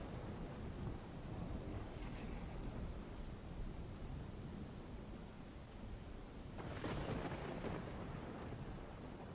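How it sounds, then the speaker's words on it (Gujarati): Steady rain pours over Vadodara in a dense, even hiss of drops on surfaces, with a low rumble of thunder swelling briefly partway through, heard faintly and without voices. "વડોદરા શહેરના વિવિધ વિસ્તારોમાં વરસાદી માહોલ, એક દિવસના વિરામ બાદ શહેરમાં વરસાદ થતા ઠંડક પ્રસરી છે।"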